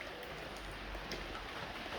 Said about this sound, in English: It hasn't stopped raining all night.